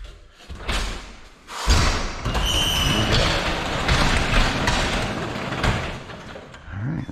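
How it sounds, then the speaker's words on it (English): Door of a big freezer being forced open for scrap, with thuds and a slam followed by scraping, rattling metal and a brief squeal, close and fairly loud. "How do we open the damn door?"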